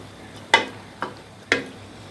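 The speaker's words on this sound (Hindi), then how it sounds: "अब अच्छी तरह से इसको मिक्स करेंगे।" Three evenly spaced scrapes of a spoon stirring ridge gourd into a curry in a pan, sharp short strokes about half a second apart over a faint sizzle, no talk.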